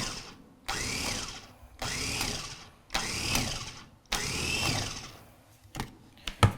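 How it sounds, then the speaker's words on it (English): A Homeleader 5-cup mini food chopper pulsing parsley, four loud whirring motor bursts of about a second each with brief gaps between, then a few short clicks and rattles at the end. "Gave it 5 pulses"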